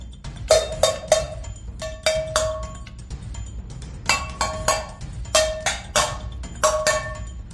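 Kitchen plates and dishes clink and clatter in quick bursts of sharp ringing taps, several clusters spread across the stretch over a low background rumble, with no voices.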